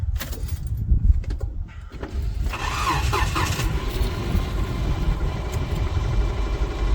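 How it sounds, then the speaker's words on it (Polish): A car engine cranks and catches, then settles into a steady, rough, shaking idle with a low rumble close by. "Odpalamy maszynę i jedziemy."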